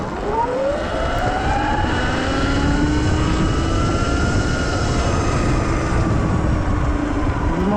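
A 2022 Sur Ron X electric dirt bike at full throttle, a rising motor whine that climbs and sweeps upward in pitch over rushing wind noise, continuous and close throughout.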